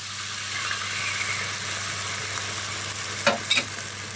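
Meat browning in a hot pan sizzles steadily as it is deglazed with Muscat de Rivesaltes sweet wine, a constant close hiss with a couple of brief clinks near the end.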